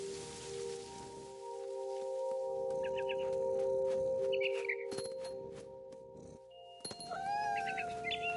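A cat in the video game What Remains of Edith Finch gives a few short, mid-loud meows and yowls over a steady ambient game hum.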